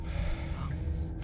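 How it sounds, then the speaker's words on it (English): A character gasping for breath in Slay the Princess, a short strained intake of air over a low droning background. "Standing there gasping like a fish is more fun than dead, even if you look ridiculous."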